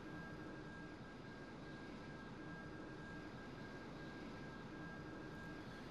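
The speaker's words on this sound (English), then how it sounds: "so a touch of afterburners to get us up over 300 knots" A fighter jet engine on afterburner in the Strike Fighters 2: Vietnam video game gives a faint, steady roar with a thin high whine, unbroken throughout.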